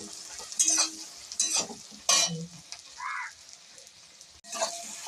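Cumin seeds with a little chili powder frying in oil, heard as several short bursts of sizzling and stirring scrapes separated by quieter gaps, close by.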